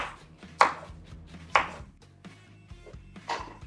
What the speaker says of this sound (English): we're gonna chop the garlic